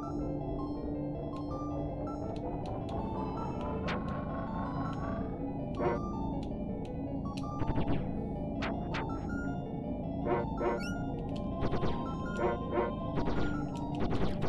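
Dog companion in the Secret of Evermore video game giving repeated sharp barks and yips over game music and effects, the barks coming in irregular bursts, some clustered close together.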